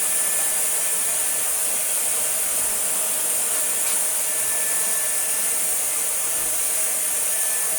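A Tineco ModaOne smart hair dryer blows continuously in a loud, steady whoosh with a high airflow hiss, close by and uninterrupted, with no talk over it.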